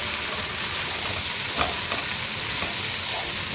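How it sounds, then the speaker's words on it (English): Garlic idli upma stirred and roasting in a hot pan, a steady close sizzle of frying with soft scraping stirs, no voices. "start roasting it till the idli upma is nice and hot"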